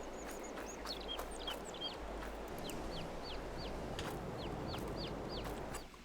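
Chickens in a pen in the farming game Farm Sim 22, many repeated clucks and short chirping calls over a steady background ambience, moderately loud throughout, no talking.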